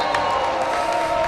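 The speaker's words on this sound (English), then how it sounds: "The crowd gets loud for the seniors." A varsity basketball quarterfinal crowd, St. Paul's vs. AACS, roars for the seniors in a steady, loud wash of cheering and shouting that fills the gym without a break.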